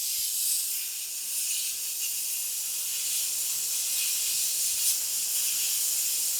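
Steady, even hiss of a laser cutter's electric air assist solenoid pushing a constant airflow, a bright broadband rush with no breaks, heard alone and close for several seconds.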